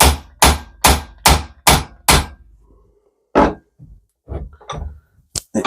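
Hub seal on a Group 4 Atlas fully floating axle being driven in with a soft aluminium drift: six sharp, evenly spaced hammer blows, then a pause and several lighter, more scattered taps, close and loud.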